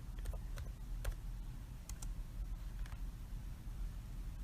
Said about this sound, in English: So I'm gonna go ahead and type it in.